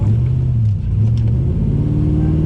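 A Chevrolet Monte Carlo with an LS engine swap does a burnout, its engine roaring loudly and steadily at high revs, a deep, continuous rumble throughout.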